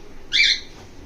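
A pet bird gives one loud, close, shrill squawk lasting about a quarter second, alone against quiet background.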